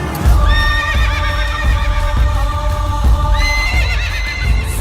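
A horse whinnies loudly in two long neighs, close by, while hooves clip-clop in a steady rhythmic beat underneath.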